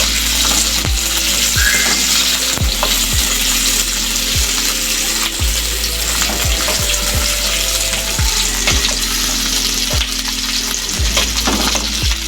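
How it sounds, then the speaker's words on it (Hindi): Onions fry in a pan with a constant close sizzle, punctuated by regular knocking thuds of a spatula against the pan, with no talking. "प्याज डाल के इसको अच्छे से फ्राई करना है ना।"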